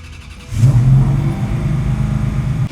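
A classic restomod car engine cranks and catches after a short pause, then settles into a loud, close, steady idle with slight rhythmic pulsing.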